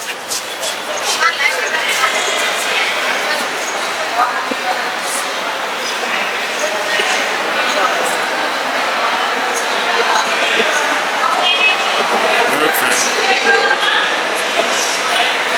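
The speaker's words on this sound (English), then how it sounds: "I'll just give you an idea of what it's like inside a train station" Interior ambience of a busy train station in Jaipur, India, a steady reverberant murmur of crowd babble and distant rail noise with scattered clanks, while someone talks close over it.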